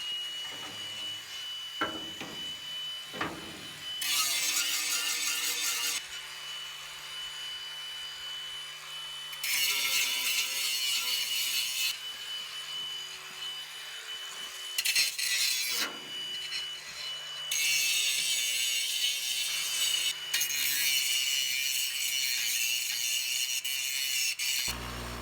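A grinder cleans metal down to bare steel for welding on a mobile outhouse trailer frame, running in several long, steady, harsh bursts with brief gaps between them.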